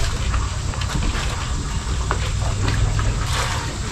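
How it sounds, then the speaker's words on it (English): Fresh water is poured for pigs in a pen, a continuous splashing, trickling flow close by with steady loudness. "Hey pigs, I got your fresh water here."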